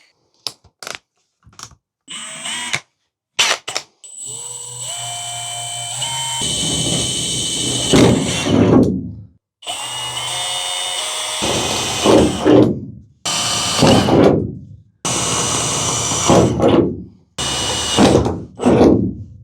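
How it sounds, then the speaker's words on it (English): Power drill drilling a pilot hole, whirring in repeated bursts close by, each run rising in pitch as it bites, with brief pauses and clicks between runs. "I'll drill through a pilot hole"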